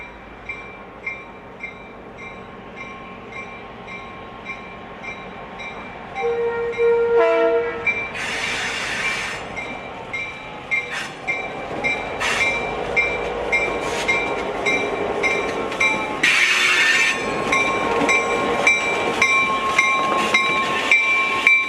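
A train engine runs the branch line along the bluffs in Capitola on the Santa Cruz Branch, rumbling and clattering steadily close by while its horn blasts several times, long sustained blows separated by short gaps.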